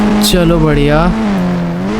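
A car drives in the Indian Bikes Driving 3D video game, its steady engine drone running loud and continuous beneath someone talking throughout.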